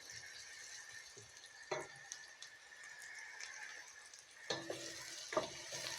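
Onions sauté in a pan for a tomato biryani, giving a faint, steady frying hiss with a few soft stirring clinks and scrapes, and no voices.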